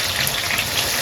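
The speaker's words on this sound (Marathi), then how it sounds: "तर आता मी कांदा फ्राय करतो आहे." Chopped onion fries in hot oil for an Agri-style vegetable pulao, giving a close, steady, dense sizzle with no pauses.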